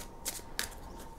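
Tarot cards being shuffled by hand, two quick papery riffling bursts, close and fairly soft, with no one talking.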